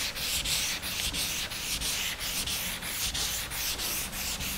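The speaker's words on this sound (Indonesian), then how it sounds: "Diamplas aja kayak gini terus sampai ini bener-bener kerikil-kerikil kayak gini hilang." Sandpaper steadily rubs wet over body putty in regular back-and-forth strokes, a close, continuous rasping scrub with a rhythmic pulse about every half second, heard alone without talk.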